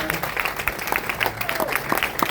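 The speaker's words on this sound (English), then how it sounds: "let's have a big round of applause for our best man, Colin Seeger" Wedding guests clap for the best man at a reception, scattered individual claps forming a light, uneven round of applause, with some voices mixed in.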